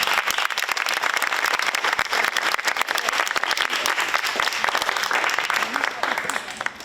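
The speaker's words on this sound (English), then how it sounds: "Give them a round of applause." Graduation crowd applauding steadily for about seven seconds, dense sustained clapping that thins slightly at the end, with no voices standing out.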